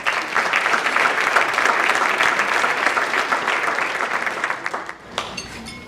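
An audience at an education leadership awards event gives a sustained round of applause, loud and dense, thinning slightly toward the end.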